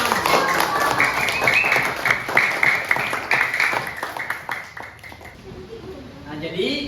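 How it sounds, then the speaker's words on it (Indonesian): A classroom of students claps together at the end of an Islamic religious lesson, a dense burst of hand claps that swells, then thins out and fades after a few seconds, with a teacher speaking over it. "Tepuk tangan untuk kita semua."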